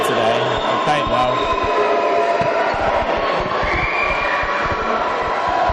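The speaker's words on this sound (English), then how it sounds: "As you can hear the crowd really getting into that." Crowd cheering and noise at a Keele versus Staffs varsity sports game, a steady roar of many voices filling the whole stretch with no let-up.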